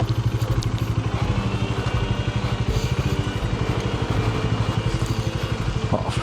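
A motorcycle engine runs steadily up close with a rapid, even throb on an off-road stretch of sand as the rear wheel slides from side to side, with faint clatter but no distinct skid sound separate from the engine.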